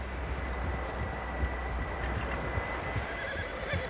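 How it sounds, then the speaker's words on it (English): Several horses galloping in Red Dead Redemption 2, a steady close rumble of hoofbeats with occasional whinnies over a constant low wind-like bed, no talk. "Horses, quite a few of them."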